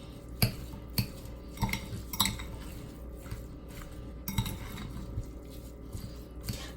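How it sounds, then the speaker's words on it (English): Ground beef filling for pastelillos (beef and cheese turnovers) being mixed in a pan, with irregular close clinks and scrapes of a utensil against the pan over a soft, wet churning of meat. No voices. "And we mix."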